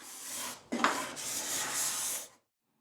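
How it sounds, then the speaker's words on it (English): Steel card scraper edge being reburnished to refresh its burr, a firm metal-on-metal rubbing stroke that breaks briefly then continues as one sustained, close scrape for about two seconds before stopping into silence. "I'm actually able to refresh the burr by simply reburnishing the card scraper without having to repeat the honing step"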